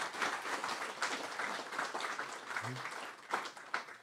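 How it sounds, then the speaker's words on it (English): Audience applause at Fippy Fest 2024: a crowd clapping at moderate volume with crisp individual claps throughout, a brief low murmur partway through, tapering toward the end. "Absolutely, a round of applause."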